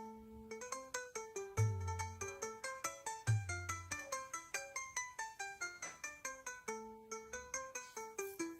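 A phone's melodic ringtone or caller tune plays during an outgoing call in a Hindi family drama, a repeating tinkling tune of quick notes, steady and fairly soft, with no voices.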